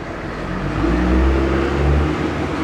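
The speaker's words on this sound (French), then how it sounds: "J'attends que le camion passe." A heavy truck rumbles past outdoors: a loud, low, broadband roar swells to a peak and eases off again, with no talking.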